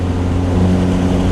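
Steady, loud drone of a hybrid-turbo Ford Fiesta ST exhaust under load, a thick low rumble with a constant engine hum and no voices.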